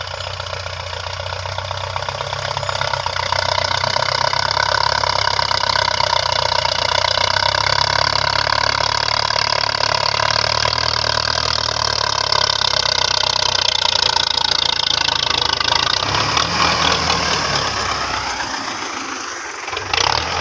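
A Belarus 510 tractor's diesel engine runs loudly while a trolley is being loaded, a steady rattling clatter that rises to a sustained roar before winding down near the end.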